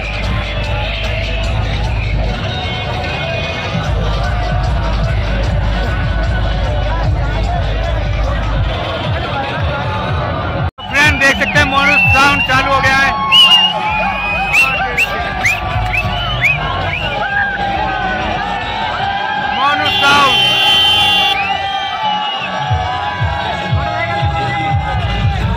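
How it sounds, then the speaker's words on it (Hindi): A large crowd at a night DJ event mills and chatters in a dense babble, with occasional shouts and whoops over loud background noise, and voices speak nearby. "भीड़ देख सकते हैं"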